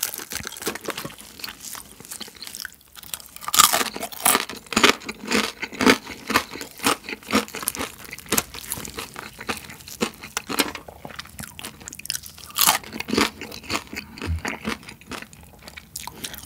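Crunching bites and chewing of crispy fried whole chicken in an old-style Korean chicken-shop batter, close-up and continuous, with dense crackling crunches and chewing throughout and no talk.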